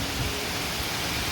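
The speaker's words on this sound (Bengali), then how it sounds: "ভীষণ জোরে বৃষ্টি পড়ছে" Very heavy rain pours down in a windy storm, a loud, broadband roaring hiss that stays constant and close, with no voices.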